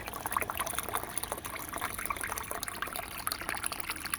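Liquid pours steadily into a one-litre container as a continuous close splashing trickle, even and unbroken for the whole stretch, with no voices.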